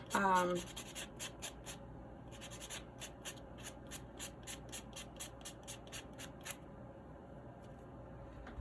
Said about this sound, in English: I'm going to buff real quick